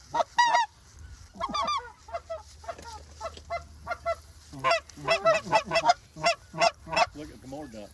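Speckle-bellied geese honk repeatedly while flying over water during a snowy hunt, their calls rising in loud clustered bursts with short gaps between them, and faint voices murmur now and then underneath.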